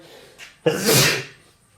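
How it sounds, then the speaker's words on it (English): A single close, loud human sneeze with a short intake of breath just before it, alone without talk, on a workbench where copper wire is being stripped. "Sorry, I had to sneeze there."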